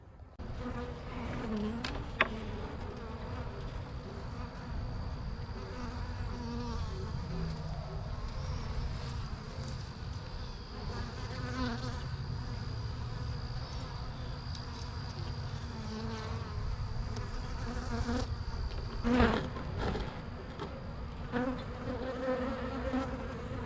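Honeybees hum in a dense, steady buzz around a hive, with occasional brief bumps and handling knocks close by.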